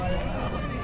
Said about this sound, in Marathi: शेळ्या बघा इकडं पण शेळ्या क्वालिटीमध्ये आहेत सगळ्या उस्मानाबादी आहेत बघा जास्त करून.